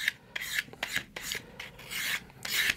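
Rounding off the end of a wooden dowel for a model rocket with a rasp or file: about seven rhythmic, close scraping strokes, each a short gritty rasp, with no talking.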